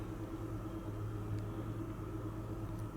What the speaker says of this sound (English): There is a noise of a fridge behind, guys, that you might be picking up on the sound.